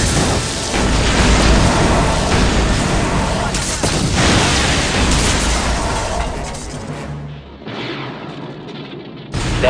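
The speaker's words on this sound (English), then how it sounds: "There has been an explosion at the main behavior hall." A loud, continuous roar of blasts and rumbling booms from an explosion in Star Wars: KOTOR fills the clip, then drops away near the end with a brief quieter tail.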